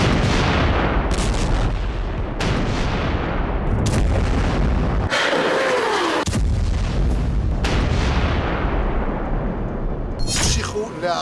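Rocket fire and blasts during a barrage on Israeli cities such as Tel Aviv, Ashdod and Herzliya: continuous loud roaring rumble punctuated by several sharp booms and bursts, with a brief whistling streak midway.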